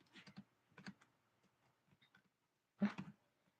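Bursts of computer keyboard typing during a live coding session: quick clusters of key taps, a pause, then another sharp flurry, close and crisp over near silence.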